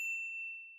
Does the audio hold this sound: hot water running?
no